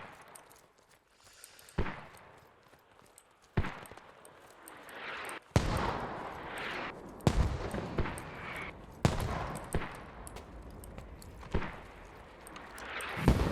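Mortar explosions in a video game boom repeatedly at irregular intervals, a series of loud sharp blasts each trailing into rumbling decay, with fainter distant thuds between them.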